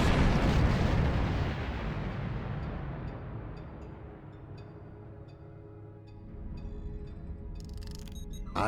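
Star Trek Online starship combat opens with a loud, heavy explosive blast that decays into a long rumbling tail. Lighter weapon pops and crackles follow, with a sharp burst near the end.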